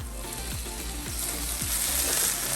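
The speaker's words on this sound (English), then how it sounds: "as you can see it's all spluttering" Chili spatters and sizzles hard in hot oil in a pan for a pineapple prawn curry, a dense, loud frying hiss with low thumps recurring about every half second underneath.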